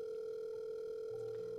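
A telephone line sounds a steady, unbroken tone throughout while a call waits to be answered, with faint background hum and no voices.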